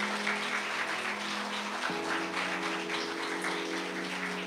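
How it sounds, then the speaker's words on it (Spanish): A congregation at a Catholic preaching service applauds in a dense, continuous patter of many hands, with sustained musical tones underneath. "Un aplauso a nuestro amado Dios."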